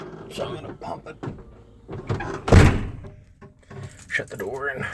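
A door on a 1978 Dodge B350 custom-built flatbed truck shuts with one loud, close thunk partway through. People talk before and after it.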